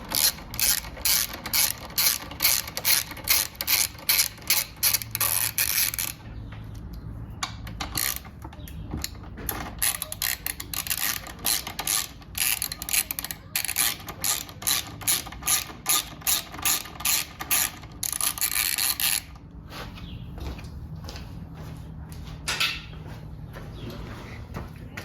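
A ratchet turns a 5mm Allen bolt on a Honda CBR650R tail section, with rapid rhythmic clicking strokes close up. They pause briefly, resume, then ease into a quieter, slower run near the end.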